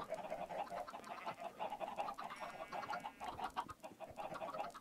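Minecraft chickens cluck repeatedly in quick, overlapping bursts, a faint continuous chorus of short pecking calls with no talk over it.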